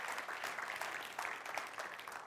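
A church congregation applauds together, a steady dense patter of many clapping hands sustained throughout without pause.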